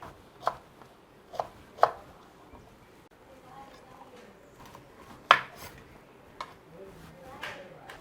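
A knife chops brinjal into pieces for sun-dried vathal, landing sharp, close strikes on a board at an irregular pace, a few louder than the rest.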